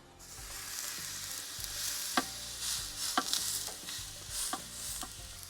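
A tomahawk steak sears on a Ninja Woodfire grill with a steady, close, dense sizzle, broken by occasional sharper pops and crackles of spitting fat.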